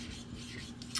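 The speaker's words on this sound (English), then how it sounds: "I'm just gonna start lapping" A natural whetstone is lapped on a lapping plate, giving a soft, continuous gritty rubbing that ends in a slightly louder scrape.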